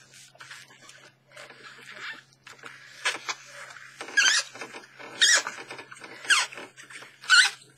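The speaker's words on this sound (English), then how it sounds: "The squeaky photo paper." Squeaky photo paper rubbed and peeled on a gelli plate during alcohol ink printmaking: a run of scratchy rubbing strokes builds into several sharp, high squeaks at irregular intervals, close and fairly loud, with no talking.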